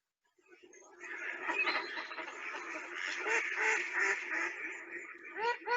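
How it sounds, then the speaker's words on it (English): Mallard ducks quacking in a busy chorus, several birds calling repeatedly in rough, laughing bursts that overlap steadily and sound moderately close. "that's a mallard. I always think they sound like they're laughing at you"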